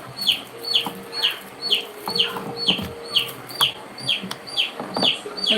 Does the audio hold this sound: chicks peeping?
yes